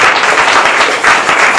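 A church congregation breaks into dense, steady applause after a Bible reading, loud and sustained with many hands clapping at once.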